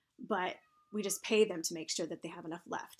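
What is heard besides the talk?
whiny cat meowing in the background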